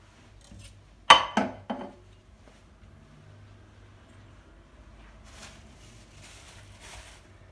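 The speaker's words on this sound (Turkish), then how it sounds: "Kabakları doğrayalım." Zucchini being cut on a board in a home kitchen: three quick, sharp knife knocks come in a cluster early on, followed by a mostly quiet stretch with faint handling sounds.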